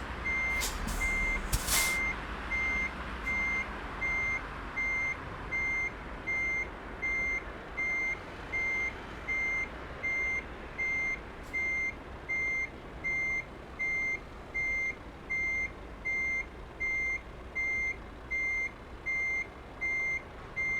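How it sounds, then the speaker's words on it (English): A truck in Euro Truck Simulator 2 reverses with a steady, evenly spaced electronic backup beep repeating throughout over low engine rumble, preceded by a couple of short clanks at the start. "I can turn off the beeping going backwards if you want."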